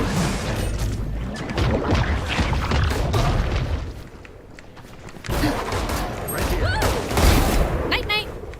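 Missile volleys fire and explode in a video game, making dense, continuous booms and rumbling blasts that carry on loudly for several seconds, with a short lull partway through, while voices speak over the barrage.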